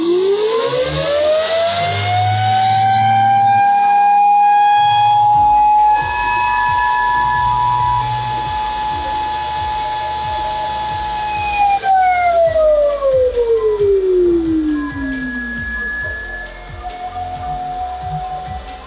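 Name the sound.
Whatsminer M21S ASIC miner fans starting up loudly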